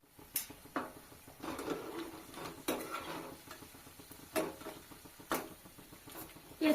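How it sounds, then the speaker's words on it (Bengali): Fried arisha pitha lifted out of hot oil, with soft scraping and clinking from a utensil against the pan over a faint sizzle, close and fairly quiet. "এরপর আমি তেল ঝরিয়ে তুলে নেব।"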